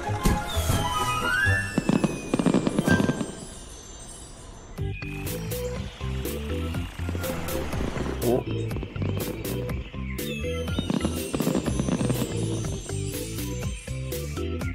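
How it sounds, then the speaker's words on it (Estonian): Cartoon fireworks bursting in an animated children's show about trucks in a town, a string of sharp crackling pops and booms layered over bright music, with a character's voice calling out. "Ilutulestik!"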